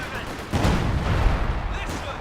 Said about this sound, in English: Right, he's actually got artillery.